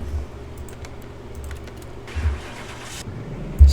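A Ferrari 250 GTO's engine starts in Car Mechanic Simulator 2021 after a missing ignition coil is fitted, a low rumbling idle with a brief cranking burst and a sharp thump at the end, mixed with clicky keyboard tapping.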